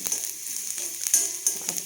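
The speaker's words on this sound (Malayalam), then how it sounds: "സവാളയ്ക്കൊപ്പം കൂണോടൊന്ന് വഴന്ന് വരട്ടെ" Mushrooms sautéing with sliced onions in a hot pan, a steady close sizzle with a few sharper crackles and stirring scrapes.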